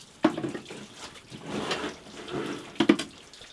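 Water runs and drips inside an abandoned copper mine at Alderley Edge: a steady wet wash with a few sharper splashes and drips, fairly close, with no talk over it.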